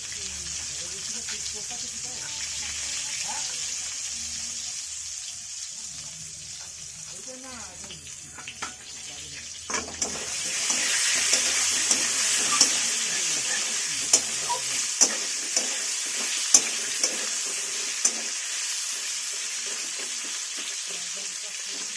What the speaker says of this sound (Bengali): পটলটা একটু লালচে লালচে করে ভাজতে হবে